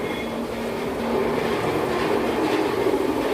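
A nearby flour grinding mill runs with a loud, constant rumbling whir that swells slightly after the first second and continues without a break.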